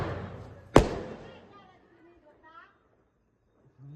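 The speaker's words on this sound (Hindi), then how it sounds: "यहाँ मेरा भाई फोड़ रहा है पटाखे।" A single firecracker bursts on a rooftop during a Karwa Chauth night celebration, one sharp loud bang that fades into faint ringing, with voices and family chatter around it.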